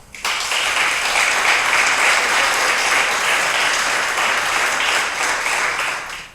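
Audience at a diversity-themed poetry reading bursting into loud, steady applause after a poem, dense clapping that starts abruptly and holds strong before tapering off at the close.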